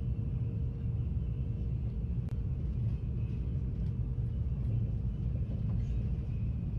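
Japanese bullet train heard from inside the cabin at high speed, a steady low rumble and hiss running unbroken throughout, with one brief click.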